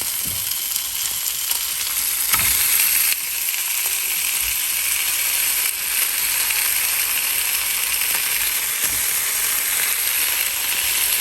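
Bacon cooks in a pan in its own fat with no oil added, a loud, dense, continuous sizzle and hiss with occasional faint clicks, running steadily throughout without voices.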